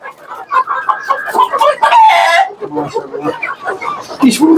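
Pahari and Fayoumi chickens on a farm cluck and crow loudly up close, with an overlapping chorus of calls and a strong crow in the middle, while people talk nearby.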